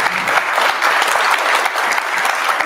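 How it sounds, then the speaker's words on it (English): Audience applause for a panel discussing reporting on the 2024 election, loud, close and evenly sustained clapping from a crowd, with no speech. "Can we give a round of applause for this panel?"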